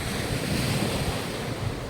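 Ocean waves wash at the sea at Ipidan, a dense, steady surf roar mixed with wind buffeting the microphone, with no voices.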